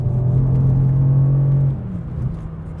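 The engine of a 2015 Mercedes-Benz AMG C63S with a 7-speed transmission drones steadily from inside the cabin, then its pitch drops at a shift and settles into a lower, quieter hum, with no one talking.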